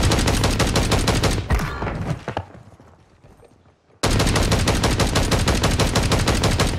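Rapid automatic gunfire from Call of Duty Warzone, sustained dense bursts that drop out into near silence for a moment before resuming at full, loud intensity.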